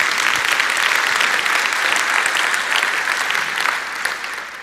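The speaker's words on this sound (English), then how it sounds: "Let's give them a huge round of applause" A conference audience claps loudly and steadily for two presenters, a dense sustained applause that thins slightly toward the end.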